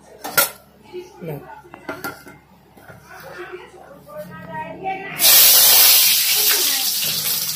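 Speech comes first, then raw peanuts drop into hot mustard oil in a wok and a loud, hissing sizzle erupts that carries on to the end.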